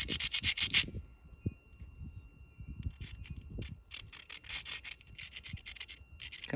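A sanding stone abrades the thin edge of a flint Hardee-style spearpoint in a series of short, rough rubbing strokes, close and fairly loud, with scattered light knocks between passes.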